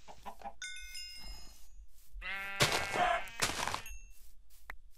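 A video game sheep bleats loudly and close by, a wavering cry, with softer clucking and a short earlier bleat beforehand.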